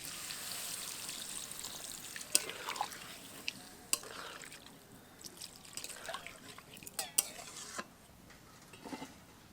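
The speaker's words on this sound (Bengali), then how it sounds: "এবার ওল এবং আলু ভালোভাবে সেদ্ধ হওয়ার জন্য এর মধ্যে জল দেব" Water poured into a cooking pot of yam and potato, a faint trickle and splash with scattered clinks of stirring, quiet and close.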